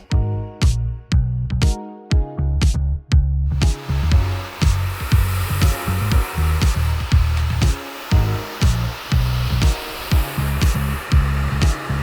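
A hair dryer blows with a steady motor whine while used with a brush, its sound pulsing in a regular rhythm as it moves back and forth.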